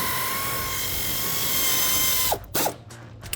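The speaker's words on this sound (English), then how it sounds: "We're using an air gun to get in here just because the bolts are so long." An air impact gun works on the long driveshaft bolts of a Jeep Wrangler JK, giving a loud, sustained whine up close that cuts off, followed by two short bursts.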